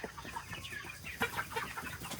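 Chickens on a farm clucking and squawking in short, scattered bursts at moderate distance, with a louder squawk near the end and no talk.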